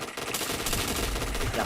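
Automatic gunfire in a shooter video game scoring a headshot, a dense continuous burst of rapid shots, close and steady throughout the short moment.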